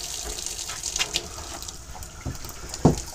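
A Bailey Unicorn Segovia caravan's water pump runs as water gushes and splashes through the tap into the sink, with a steady running hiss broken by a few small knocks and splashes close by.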